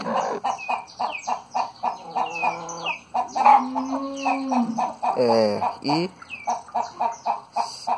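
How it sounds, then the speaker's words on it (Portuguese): Hens, including an Indian breed hen that is laying, cluck in short repeated bursts close by, with a drawn-out squawk midway and softer background clucks throughout. "Uma galinha grande, bonita também, que eu peguei no mato."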